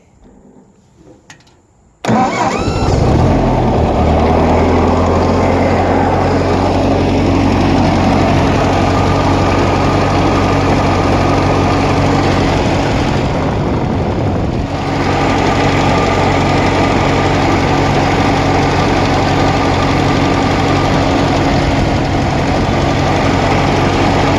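A cheap refurbished tractor engine cranks and catches after its oil filter is tightened, then runs loud and steady at idle with a rough, knocking rumble that dips slightly about halfway through before settling back.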